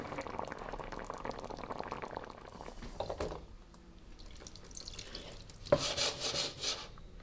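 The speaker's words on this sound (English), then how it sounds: "we're just gonna bring this up to the simmer now" Filipino goat stew kaldereta simmers in a pot with soft bubbling and stirring, a louder clatter and burst of activity near the end.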